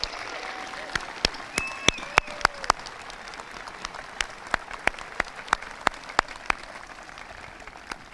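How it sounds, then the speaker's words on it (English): A high school graduation audience applauds the staff, a thin, scattered spread of claps rather than a dense wave, with a brief bit of faint background tone and murmur early on. "Please provide our staff with a round of applause to demonstrate your appreciation for a job well done."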